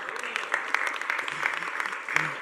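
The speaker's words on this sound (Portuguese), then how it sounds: "vamos a darle un aplauso" An audience at a book presentation in Argentina claps, a moderate, fairly faint patter of many hands with a few louder claps and brief voices mixed in.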